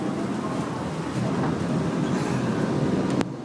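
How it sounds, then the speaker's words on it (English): Inside the rear cabin of a moving Disneyland Mark 7 monorail, a loud steady rumbling ride noise fills the space with a low hum and faint squealing overtones. It ends with a sharp thump. "we're in the back of the monorail"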